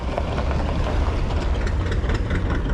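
An old Case tractor engine idles at a farm heritage show, a steady low rumbling drone with a faint knocking rhythm, continuous and fairly close, with no talk over it.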